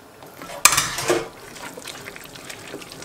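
Red kidney beans rinsed and drained in a home kitchen: a sharp metallic clink, then a brief splash and rattle of beans and water in a strainer, fading to quiet trickling.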